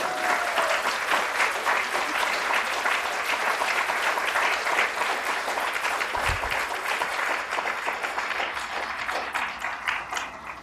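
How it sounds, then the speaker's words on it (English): An audience at a nursing school candle lighting ceremony bursts into sustained applause, a dense wash of many hands clapping in a hall that holds steady and then slowly thins toward the end. "You can clap."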